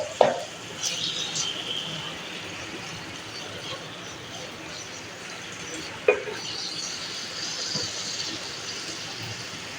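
Washed minced meat fries in a pan with garlic and ginger for an aloo keema, a steady close sizzle with occasional knocks and scrapes of stirring, and no talk over it.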